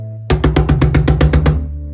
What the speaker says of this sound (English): That is the sound of someone knocking rapidly.